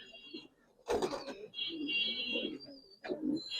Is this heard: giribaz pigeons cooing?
yes